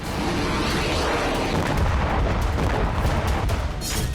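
Heavy shelling strikes Kramatorsk, Ukraine, during a Russian attack. Dense, overlapping booms and thuds form a loud, continuous barrage with sharp blasts scattered through it.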